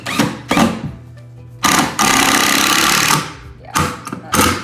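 Screws being sunk into wood trim along a marked line, loud bursts of a power driver whirring in several pulses with one longer run in the middle and short gaps between.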